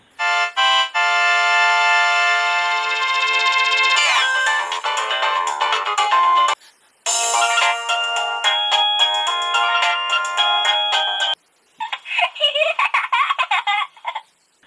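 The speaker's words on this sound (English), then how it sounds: "I'm sure you grew up listening to the ringtones of the old Nokia phones back in the days." Old Nokia mobile ringtones play one after another, loud and clear electronic melodies with short pauses between them, ending in a different tone.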